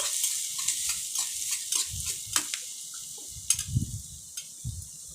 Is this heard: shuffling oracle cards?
no